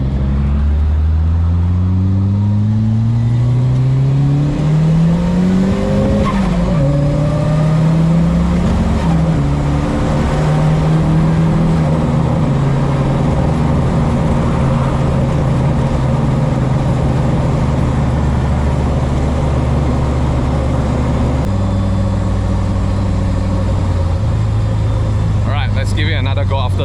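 Toyota AE70 drift car engine drones steadily while driving, revs climbing and easing through gear changes, loud and close from inside the cabin with road noise underneath.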